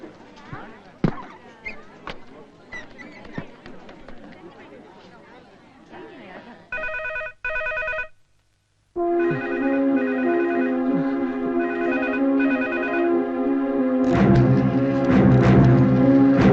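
A telephone rings in bursts of a repeated electronic tone, loud and close, with people talking before it and a brief pause between rings.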